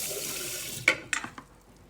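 Water from a measuring cup poured onto sushi rice in a pot for cooking, a steady close splashing stream that stops, followed by a few small clinks and drips.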